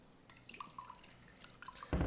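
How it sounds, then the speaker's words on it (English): A drink being poured into a glass: a quiet series of light liquid drips and trickles, close by, ending in a brief louder clunk. "All right, I'm pouring myself some more here."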